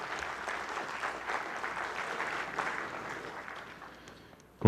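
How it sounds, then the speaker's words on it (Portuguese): Applause from the audience at a solemn evangelical pastors' day ceremony in Manaus, a steady crowd clapping that fades gradually toward the end before a sudden loud bump. "E vamos dar uma salva de palmas para Ele"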